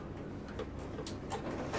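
A sewing machine stitching elastic onto mesh shorts, a soft rapid mechanical whirr with faint ticking pulses, close and low in level.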